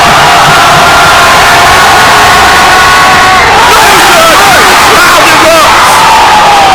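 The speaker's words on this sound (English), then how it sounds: "The crowd is live." A home crowd at a Utah high school boys basketball game roars continuously and loudly in the final seconds, with whoops and yells rising over dense babble.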